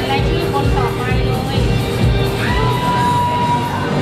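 An audience at a hair show applauds and cheers in a dense, steady roar of clapping and shouts lasting throughout, with voices mixed in.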